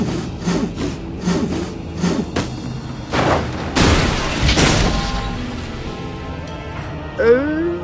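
Rhythmic back-and-forth sawing strokes from a saw in the Sam and Max cartoon adventure game, several rasping bursts followed by heavier thuds, with voices speaking near the end.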